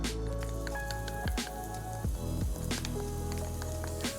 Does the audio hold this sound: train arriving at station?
no